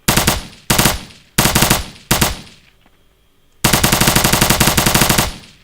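Rapid bursts of automatic gunfire from a video game, four short volleys with a brief lull, then one long sustained burst, loud and close.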